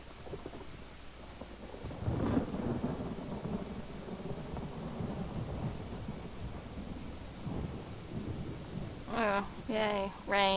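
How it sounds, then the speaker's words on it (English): Thunder and rain in the Elder Scrolls Online video game, with a low rolling rumble swelling and fading under steady rain hiss, while someone talks over it. "Yay, rain."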